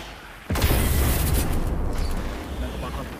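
An explosion in the underwater game MurkyDivers, a sudden loud boom followed by a rumbling roar that slowly fades, with voices faintly under it.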